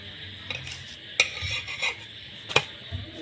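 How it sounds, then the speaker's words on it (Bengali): Palm pitha wrapped in banana leaf dry-frying in a wok with no oil, turned over with a utensil: a soft steady hiss broken by a few sharp metallic clanks and scrapes, close by. "শুকনো কড়াইতে মা ভেজে নিচ্ছে পিঠাগুলো এই যে উল্টো পাল্টা করে এরকমভাবে ভাজি যায়"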